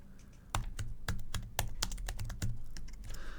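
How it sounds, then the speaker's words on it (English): Typing on a computer keyboard sounds as a quick, uneven run of close, crisp key clicks and taps over a faint background hum, with no talk. "we can see as I type"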